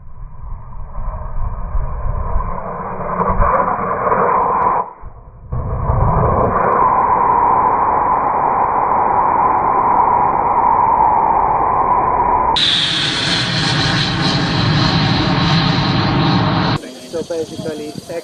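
A Jupiter 3 high-power model rocket on an L995R motor ignites at a launch meet, and a loud, steady, hissing roar of the motor burns continuously for over ten seconds after a brief pause.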